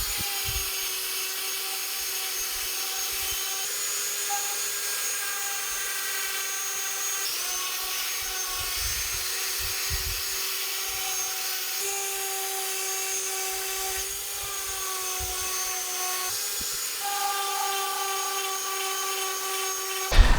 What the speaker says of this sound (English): We'll get the sander going and start sanding this body.